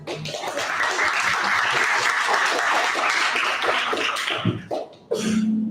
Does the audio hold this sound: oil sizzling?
no